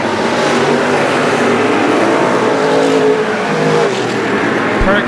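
Race cars roaring continuously past on an oval track during a night feature at the 2017 Texas Grand, loud dense engine noise sustained throughout with a brief sharper burst near the end.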